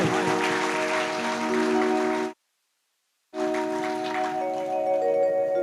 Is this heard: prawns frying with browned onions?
no